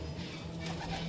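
A Punjabi Malbai pigeon cooing close by in a short, soft low burble that lasts about a second.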